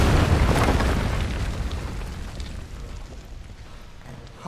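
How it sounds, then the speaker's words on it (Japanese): Rumbling explosions from the video game Final Fantasy VII Remake, loud and dense with deep booming bursts that gradually fade over a few seconds, with no talk. "爆発止まらねえな。"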